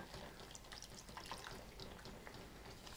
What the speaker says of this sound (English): slowly add in my broth